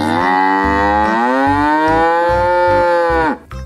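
A toy cow from a set of farm-animal toys gives a loud, sustained electronic moo lasting about three seconds before cutting off abruptly, heard alone without talk.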